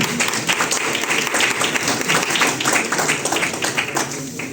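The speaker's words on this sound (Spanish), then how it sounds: "Damos un aplauso también, por supuesto." Sustained audience applause at a formal civic conference session, dense steady clapping from a sizeable crowd filling the whole stretch without pause.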